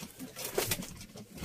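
Pigeons or doves cooing nearby in a bird loft, soft low coos over a steady background hiss, with no voices.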